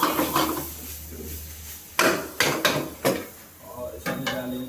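Chicken being mixed with chicken masala, garam masala, coriander powder and red chilli powder in a kadai, heard as clanking spoon-on-pan scrapes and knocks in irregular bursts, close and fairly loud, with no talking.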